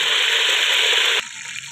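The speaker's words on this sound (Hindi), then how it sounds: "ये घी जी अच्छी तरह गर्म हो चुका है। अब हम इसमें 5 लौंग ऐड करेंगे और इसे अच्छी तरह फ्राई कर लेंगे जी।" Cloves fry in hot ghee with a loud, dense, close sizzle that drops suddenly to a quieter hiss just past the one-second mark.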